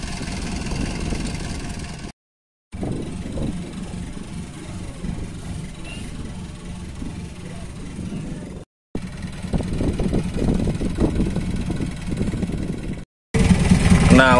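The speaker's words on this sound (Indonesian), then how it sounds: "Kapalnya seperti ini, mesin dalam." Inboard engine of a small boat idling and running steadily out on open water about ten meters deep, a continuous close low rumble broken by three brief dropouts.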